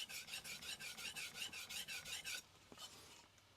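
A Nakamura Hamono 180mm Aogami #1 gyuto knife is drawn across a Naniwa green whetstone in about a dozen quiet, even back-and-forth rasping strokes, then the scraping stops and a faint tap follows.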